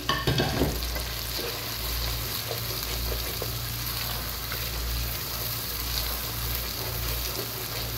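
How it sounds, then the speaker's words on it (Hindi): Whole spices (black cardamom, cumin and curry leaves) sizzling in hot oil with tamarind for Lahori chikar cholay, a continuous close frying hiss with a spoon stirring through it. "इसके अंदर ऐसे चमचा हम हिलाते रहेंगे मुसलसल"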